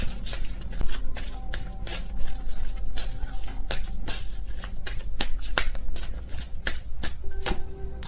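Tarot cards are shuffled continuously for about eight seconds, a steady riffling patter punctuated by repeated sharp slaps and snaps as the deck is cut and tapped, close and fairly loud with no voices.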